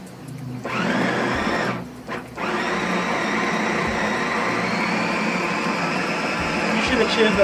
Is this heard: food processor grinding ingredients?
yes